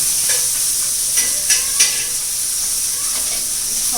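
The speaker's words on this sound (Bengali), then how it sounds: "মাছ ভাজা শেষ" Fish sizzles in a frying pan in a small home kitchen, a steady hiss of hot oil with a few soft clinks of stirring, heard close and alone.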